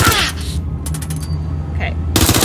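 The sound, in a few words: gunfire from enemies shooting at player, Watch Dogs Legion video game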